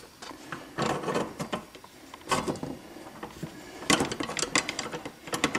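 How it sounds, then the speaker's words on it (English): On a Harbor Freight 10-inch table saw, the riving knife lever is pulled up and the knife lifted, making several close metallic clanks, rattles and scrapes in irregular bursts with no talk. "pull up on the lever and then pull the riving knife up"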